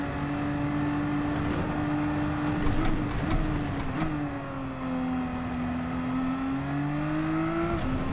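Race car engine in Gran Turismo 7, holding a steady high drone that dips and climbs as the car drifts through a corner, with brief clicks of gear shifts midway, continuous and close.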